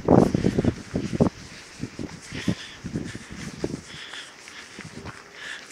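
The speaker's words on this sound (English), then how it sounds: "Oh, it's windy." Wind gusting across an open, muddy park, a broad breathy rush with rustling and footstep-like scuffs near the microphone, strongest at the start and easing to a steadier low blowing.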